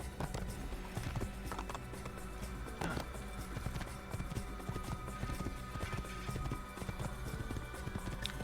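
Horse hooves gallop in Assassin's Creed, a steady quick clip-clop running under a dense layer of game music and ambience at moderate level.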